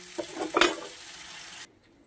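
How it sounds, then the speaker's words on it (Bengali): Taro frying in a covered pan over medium heat, a soft sizzle with a few scraping stirs and a brief louder clatter, then the sound drops away abruptly to near silence. "কচুটা ভাজা হতে হতে"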